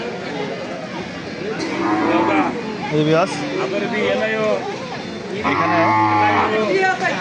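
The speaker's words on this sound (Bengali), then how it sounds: "এখানে দেখা যাচ্ছে কি আরো দুইটা গরু" Cows moo loudly and repeatedly amid a busy crowd at an open outdoor cattle market, with people chattering nearby.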